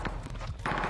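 Gunfire in a video game, a brief burst of a couple of sharp close shots in quick succession, loud and short.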